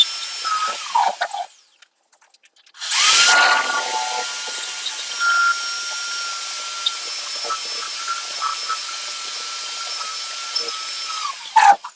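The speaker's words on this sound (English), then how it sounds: "now we'll go and drill the other side" A power drill with a water-cooled bit boring holes through tile into wooden backing to mount a grab rail, giving a high, steady whining grind that stops briefly, then resumes with a sharp bite and runs on before cutting out.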